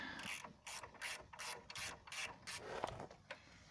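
A ratchet wrench spins off the last bolts on a Range Rover P38 rear differential, a fast, close series of clicking bursts in a steady rhythm with short pauses between strokes.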